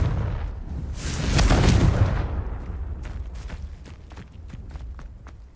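A Confringo fire spell from Hogwarts Legacy bursts into a loud, rumbling explosion that swells and fades over a couple of seconds, followed by a scatter of lighter impacts and crackles as the blast settles.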